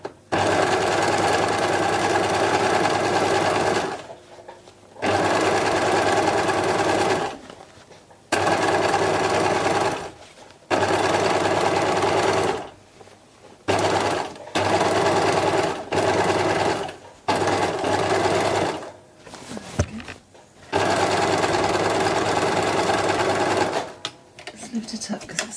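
A sewing machine stitches a beach bag in loud, steady whirring runs separated by short pauses, starting and stopping repeatedly.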